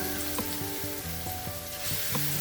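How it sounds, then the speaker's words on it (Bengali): Gram flour and onion fritters with chilli frying in hot oil, giving a continuous dense sizzle, close and steady throughout, with no voices. "কয়েকটা পেঁয়াজি বানিয়ে নেব।"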